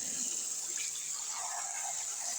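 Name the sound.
tap water running onto a soapy pop-it fidget in a sink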